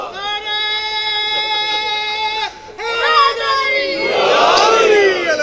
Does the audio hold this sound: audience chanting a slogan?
yes